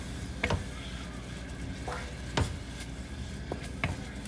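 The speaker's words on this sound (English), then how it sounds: "let it just stir fry a little bit till it becomes a little bit juicy" Modak filling with cardamom stir-fried in a pan, a soft steady sizzle with a few sharp spatula scrapes and clinks spaced across the clip, close and fairly quiet.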